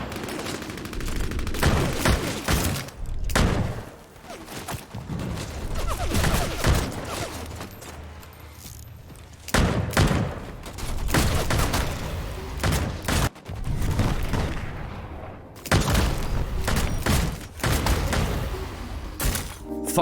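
Gunfire in the video game Bloodhunt: loud, dense bursts of rapid automatic fire with heavy thumps, repeating in waves with only brief lulls throughout.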